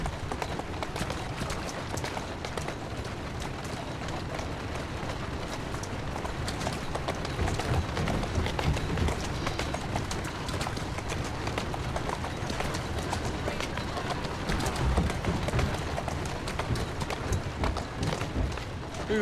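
A horse gallops in Assassin's Creed Syndicate, its rapid hoofbeats drumming steadily and loudly throughout a long stretch beneath a continuous rumble of movement.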